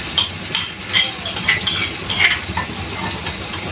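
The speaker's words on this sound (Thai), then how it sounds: "เริ่มต้นด้วยการเอาพริกลงไปคั่ว" Chili curry paste being dry-roasted and stirred in a pan without oil over gentle heat, a steady soft sizzle with repeated scraping strokes of a spatula, close and continuous, with no talking.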